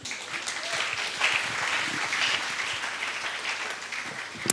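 A church congregation at a Sunday service claps together in sustained, dense applause, moderately close and continuous for several seconds with no talk over it.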